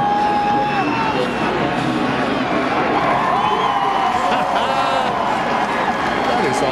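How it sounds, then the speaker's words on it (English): A NASCAR Nextel Cup race crowd roars in a broad, continuous wash of cheering, heard at a distance, with commentary voices running over it. "The crowd reaction when they hoisted Junior out of that car was huge."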